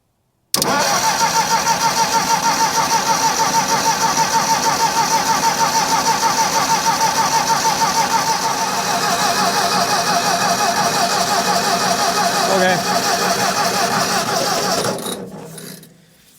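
Ford 2000 industrial tractor engine being cranked over without firing, a steady rhythmic starter churn running loud and continuous for about fourteen seconds before winding down.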